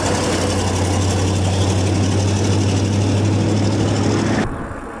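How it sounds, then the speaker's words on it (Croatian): A truck drives past mountain bikers on a busy road, a loud steady low engine rumble close by that holds for several seconds, then cuts away abruptly near the end. "Evo sad će nas i kamion da prođe."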